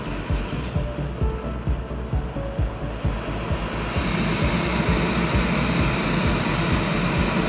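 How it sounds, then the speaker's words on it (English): An MSR PocketRocket 2 backpacking gas stove burns with a steady, loud, jet-like roar close by. The hiss grows stronger and brighter partway through as the flame is turned up. "It's pretty loud and it gets very hot, and you can see the cone of fire is pretty much straight up."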